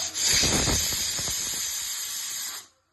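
A sharp, loud hiss of steam escaping under pressure, close by, fading out after a couple of seconds.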